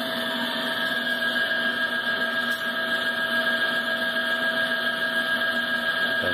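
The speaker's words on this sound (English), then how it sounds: "So here is the 5 horsepower electric motor." Steady hum of a 5 horsepower electric motor running continuously, with stable tonal whine and constant level throughout, no talking.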